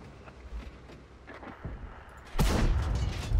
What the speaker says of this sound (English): that's a huge shot